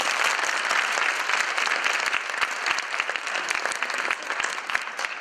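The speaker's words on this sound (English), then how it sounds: "Can we give a round of applause to them?" An audience applauds graduates at a fashion show, a sustained wash of many hands clapping at moderate distance, steady for several seconds before thinning slightly toward the end.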